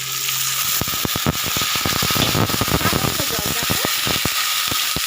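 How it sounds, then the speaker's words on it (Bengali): Amudi fish fry in hot oil as a little water is added, setting off loud, crackling sizzles and rapid spattering pops that come in dense clusters, with some quiet talk underneath. "সামান্য একটু জল দেবো মাছগুলো যাতে একটু সিদ্ধ হয়"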